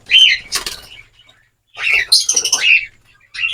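Zebra finches flutter out with quick wingbeat bursts mixed with sharp chirps and squeaky calls, close by, in two clusters separated by a short pause.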